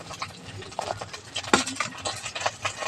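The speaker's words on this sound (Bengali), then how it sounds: "বেসন আর সমস্ত মশলাগুলো একসঙ্গে খুব ভালো করে গুলে নেব।" Gram flour batter with spices and water is stirred in a bowl, giving soft irregular wet scraping and light clinks close by, with one sharper knock partway through.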